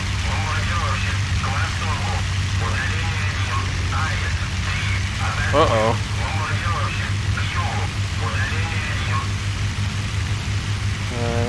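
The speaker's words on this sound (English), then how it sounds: "Engine is stuttering a bit there." A Hurricane's aircraft engine drones in the IL-2 flight sim, a loud, continuous rumbling roar with a rough, uneven texture throughout, while someone talks over it.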